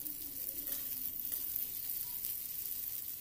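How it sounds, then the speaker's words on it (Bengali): Onion and tomato frying in a pan while cooking Baul fish curry: a steady, soft, continuous sizzle close by with faint stirring, no talking. "পেঁয়াজটা ভাজতে ভাজতে একটা ব্রাউন কালার চলে আসবে"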